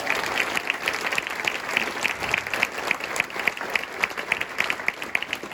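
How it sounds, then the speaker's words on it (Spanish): Church congregation applauding during a sermon, lively clapping with rhythmic, distinct nearby claps over a dense crowd wash, steady throughout. "¿Alguien le puede dar un fuerte aplauso a Dios?"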